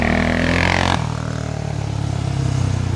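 Honda 400ex ATV on stock sprockets launching hard with heavy wheel spin, a loud revving engine climbing in pitch then dropping into a steady rough drone with scraping clatter, close by.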